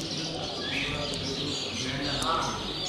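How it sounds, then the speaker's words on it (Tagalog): Caged birds chirp and coo at a busy bazaar, small tweets scattered over a dense, steady crowd murmur, with indistinct voices nearby. "Tapos mga ibon. Ayun, mga ibon dito, guys."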